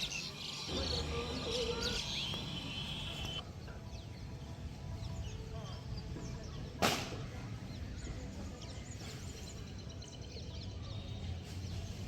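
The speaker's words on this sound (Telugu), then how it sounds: "సాయంత్రం అయ్యేసరికి ఆ బర్డ్ సౌండ్స్ పైన ఎంత ప్రశాంతంగా ఉంటుందో" Evening birdsong in a village garden, where scattered chirps and clucking fowl sound at moderate distance over a steady outdoor background and a brief sharp knock is heard midway.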